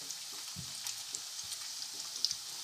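Aloo samosas frying gently in oil over a very low flame give a faint, steady crackle with tiny scattered pops and a few soft clicks, no voices.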